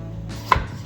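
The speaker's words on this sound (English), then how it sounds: "the first thing we're going to want to do is chop up our potatoes" Potatoes being chopped into small pieces for a turkey pot pie, a single firm knife chop landing on a cutting board, close and isolated against a quiet room.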